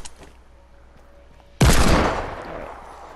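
Gunfire in Fortnite: after a quiet stretch, a sudden loud burst of shots breaks in and then fades into a rumbling tail, with no one speaking.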